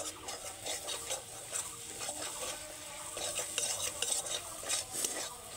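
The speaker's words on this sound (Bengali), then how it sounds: "কিছু সময় নাড়তে নাড়তে ডিম ভাজাটা খুব ভালোভাবে ভাজা ভাজা হয়ে যাবে" Egg being stirred and fried for Maggi noodles in a wok on a home stove, soft, faint sizzling under repeated scraping and stirring strokes of a utensil, close and rhythmic without speech.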